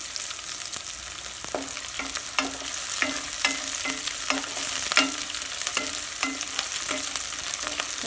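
Onions sautéing in a pan for a spinach stir-fry, a steady sizzle with regular spoon scrapes and taps repeating about every half second, close and alone.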